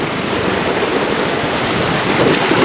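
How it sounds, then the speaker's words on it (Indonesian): Strong, fast stream water rushing beside rice fields, a loud, continuous, dense roar close to the microphone with some wind buffeting and no voices. "Kenceng banget itu airnya"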